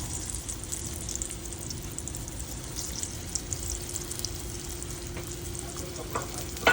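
Pomfret fish frying in hot oil on a flat pan, a steady close sizzle and crackle that holds throughout, with a brief louder spatter near the end and no talking.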